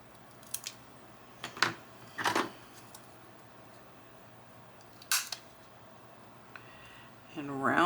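Scissors trimming a paper photo pocket, several short, crisp snips close by with pauses between, and a voice begins speaking at the end.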